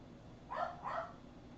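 A dog gives two short barks in quick succession somewhere in a quiet room, moderately distant and fairly faint, with no talking.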